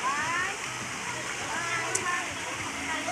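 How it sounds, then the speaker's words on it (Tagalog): Water pours down from above into a resort swimming pool, a steady splashing rush like a small waterfall, close and continuous while a person talks over it. "dyan nanggagaling yung tubig sa taas. So ito yung swimming pool."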